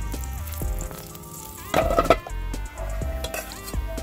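Jamaican-style curry frying in a hot pot, with a steady sizzle under repeated scraping and clanking of a spoon against the metal, including one louder burst of stirring midway.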